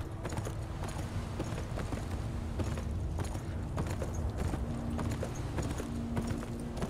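Horse galloping in the video game Beyond: Two Souls, rapid rhythmic hoofbeats at steady pace with faint creaking of tack, continuous and fairly close.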